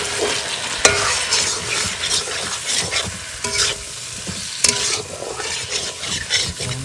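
Potatoes sizzling and frying in a pan with coriander powder, chili powder, turmeric and salt, being stirred steadily with occasional scraping clinks, close and loud throughout.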